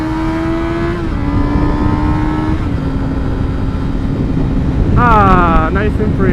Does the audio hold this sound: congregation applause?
no